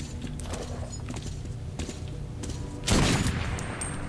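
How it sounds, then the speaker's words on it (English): Fully automatic shotgun fire in the Metro 2033 video game, a muffled burst of rapid shots followed by a loud blast near the end, with game ambience beneath. "at least I got fully automatic shotgun"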